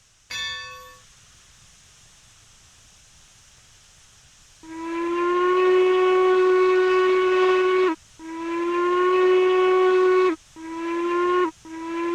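After a brief bell clang, the Uintah 2662 steam locomotive in the video game Railroads Online blows a long sustained whistle chord, then two shorter blasts, close and piercing.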